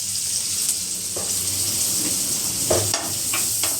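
Onion frying in a pan as the base for a fish gravy, a steady close sizzle with a few soft stirring scrapes and taps, continuous and without talking.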